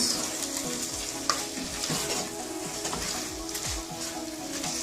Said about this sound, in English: I'm going to add the potatoes.